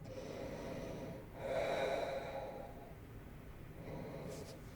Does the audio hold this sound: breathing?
yes